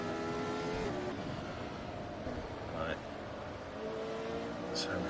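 A 1975 Formula Retro race car in Automobilista at the Österreichring, its engine howling at full throttle with sustained high revs and brief shifts, loud and close, with someone talking over it.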